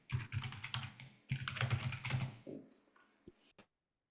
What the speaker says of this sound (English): Doug, I muted you because you were typing